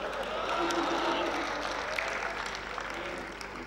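An audience claps steadily in a dense wash of applause at a poetry recital (kavi sammelan) at a university, with some crowd voices mixed in.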